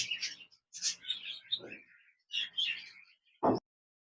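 Several small lutino budgerigars chirp and twitter in quick bursts close by, high-pitched chatter with brief pauses and a soft thump near the end.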